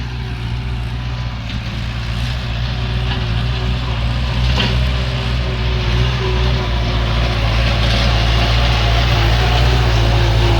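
Kubota L5018SP tractor with about 800 hours on the engine runs steadily throughout, a continuous low diesel drone with a constant harmonic hum, close and fairly loud, with no voices.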